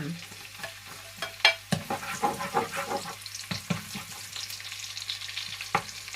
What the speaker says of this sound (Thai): เตรียมผัดเครื่องนะคะ